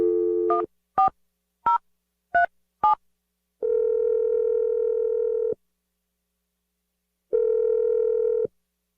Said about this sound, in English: We're going to dial his number right now